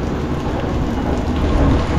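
Steady rain falls outdoors in Cebu near the mountains, a dense, loud, continuous hiss of drops with a deep rumbling undertone and no voices.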